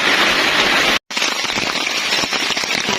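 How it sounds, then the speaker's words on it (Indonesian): Heavy rain pours hard during a stormy night of camping, a dense, loud, unbroken roar of drops that cuts out for a split second and then resumes with scattered sharper patters. "Deras sekali hujannya plus angin kencang."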